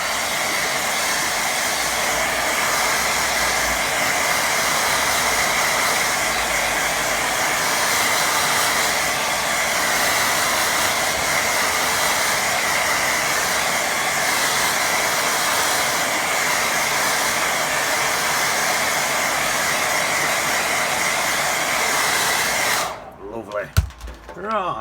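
A hair dryer blows steadily on a watercolour painting of a summer stream, a loud continuous whoosh for over twenty seconds before it cuts off abruptly, followed by brief handling noises.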